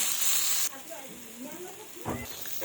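Figs frying in a pan with turmeric: a loud sizzle at first that drops to a softer, steady crackle, with scraping stir strokes and a brief clatter near the end.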